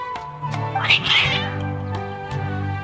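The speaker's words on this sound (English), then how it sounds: "Your cats seem pretty worked up." Agitated cats in the Genshin Impact video game meow and caterwaul loudly, several drawn-out wavering yowls over a backdrop of steady game music.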